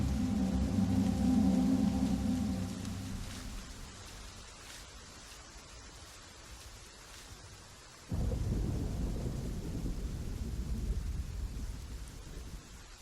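A storm of steady rain and thunder: a deep rolling rumble opens under hissing rainfall, then a loud low thunderclap breaks in midway and keeps rumbling beneath the downpour to the end, with no voices.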